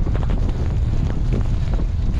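Strong wind blows hard in Swedish Lapland, a loud, continuous low roar buffeting the microphone throughout.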